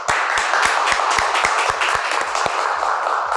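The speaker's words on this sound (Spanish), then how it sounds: "un aplauso, María Truzá" Audience applause breaks out at a live talk show, a dense, even run of many hands clapping with sharp rhythmic claps standing out close by, sustained without any speech.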